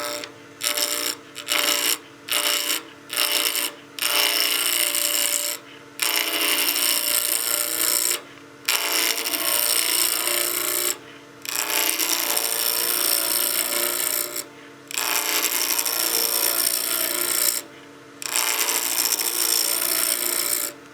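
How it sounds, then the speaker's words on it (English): A spindle roughing gouge cuts a square wood blank on a lathe spinning at about 1800 RPM, making a loud, continuous rasping scrape broken by repeated short pauses as the tool is lifted and reset. "we'll be using our spindle roughing gouge just to rough this down to round"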